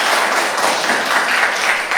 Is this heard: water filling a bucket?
no